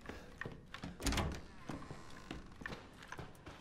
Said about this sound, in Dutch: Oké, deur dicht.